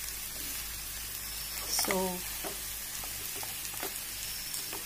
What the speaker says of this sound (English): Yeah, the potatoes are nearly fried.